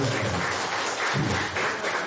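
A crowd gives a short burst of clapping for a traffic police officer retiring after 35 years of service, at an office inauguration in Itanagar; dense, close and fairly loud across two seconds.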